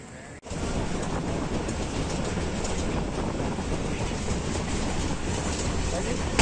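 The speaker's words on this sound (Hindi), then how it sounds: "जहांगीरा रोड से तेरा आप अवाम एक्सप्रेस पेशावर की जानिब रवाना" Pakistan Railways Awam Express pulling away from Jangira Road toward Peshawar, a steady close rumble of wheels and carriage noise that starts abruptly after a brief quiet moment and continues evenly.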